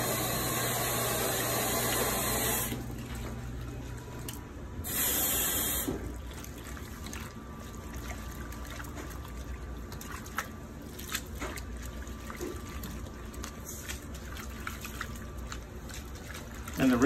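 Running water pours from a kitchen tap as vegetables are rinsed during cooking, a steady hiss with occasional splashes and clinks that continues for the whole stretch.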